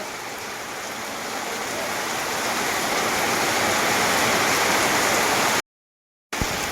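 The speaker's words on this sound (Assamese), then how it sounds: "এতিয়া পুৰা বৰষুণৰ মাছ দিছে নে ধাৰাসাৰ বৰষুণ দিছে একদম কেৱল বৰষুণ" A heavy downpour of rain in rural Assam, a thick, steady rushing roar that gradually swells louder, then cuts out abruptly for a moment near the end.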